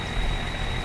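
Truck engine idling in Farming Simulator 25, a steady low rumble that holds even and continuous throughout, with a faint high whine running above it and no talk.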